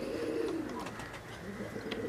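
A black and blue Teddy pigeon coos softly nearby, low throaty murmurs over faint background noise.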